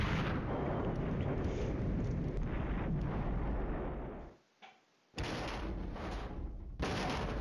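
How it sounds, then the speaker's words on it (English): Artillery strike explosions in the wargame Flashpoint Campaigns: Red Storm: a loud, sustained roar of rumbling blasts that suddenly cuts to near silence, then bursts back with more heavy booming. "here comes the first of our artillery strikes"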